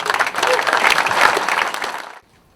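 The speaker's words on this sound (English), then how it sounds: "a round of applause for the committee that put this together" A round of applause for a committee at a presentation on a football locker room renovation: dense, steady clapping from a crowd that holds for about two seconds, then stops abruptly.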